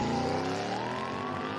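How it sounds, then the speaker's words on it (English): A police car races through city streets, its engine droning loud and close with a rising pitch as it accelerates past, a steady sustained roar without any voices. "the police car speeds through the streets"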